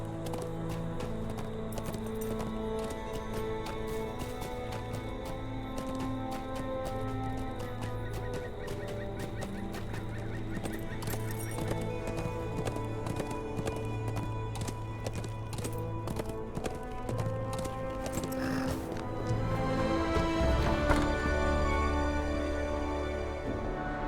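Horse hooves clip-clop steadily in the fantasy video game LOTRO, a continuous rhythmic clopping set against a dense layer of game music and ambience, with no talking.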